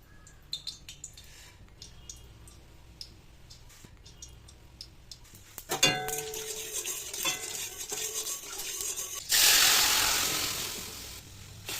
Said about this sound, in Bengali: তেলটা গরম হয়ে গেলে ওতে দেব শুকনো লঙ্কা জিরে আর পাঁচ ফোড়ন